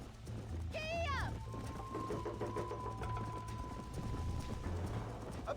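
Horse galloping in the video game Red Dead Redemption, a fast rhythmic clip-clop of hooves running under game music, with a brief whinny-like vocal sweep near the start and a person talking over it.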